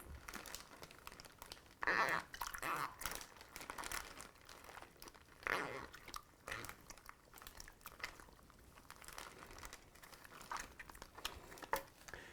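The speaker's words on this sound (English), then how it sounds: "now I'm going to go ahead and cinch this zip tie up." A zip tie is cinched tight on a plastic dry-aging bag wrapped around a ribeye, giving quiet, close crinkling and rasping in short bursts.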